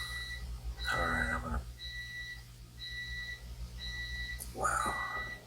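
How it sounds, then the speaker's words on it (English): A pool timer alarm beeps in a steady series of short, evenly spaced electronic tones under a low hum, with brief bursts of speech cutting in. "The timer's going off for the"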